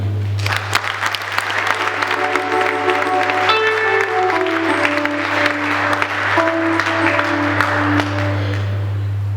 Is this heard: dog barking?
no